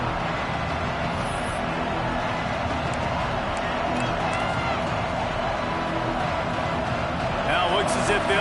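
Stadium crowd roar in a college football video game during a field goal attempt, a dense, steady wall of noise with a swell near the end.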